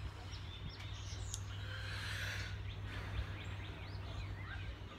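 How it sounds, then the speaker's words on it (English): Faint bird chirps scattered over a steady low hum outdoors, with a few sharper calls standing out briefly. "you hear the birds chirping"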